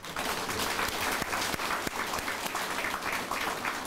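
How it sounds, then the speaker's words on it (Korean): Warm applause from a crowd at a Saenuri Party campaign office opening for a Tongyeong mayoral candidate, dense and steady clapping throughout. "우리 강석주 전 도의원님께 다시 한번 감사의 말씀을 드리면서 한번 좀 뜨거운 박수를 좀 보내주십시오."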